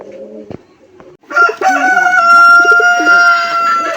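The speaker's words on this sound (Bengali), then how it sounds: "এটা পুরান জাতের রাজগোল্লা কবুতর।" Rajgolla pigeons of an old breed, kept for sale, coo and call in loud, harmonic bursts that start faintly and then swell into a close, sustained chorus of overlapping calls.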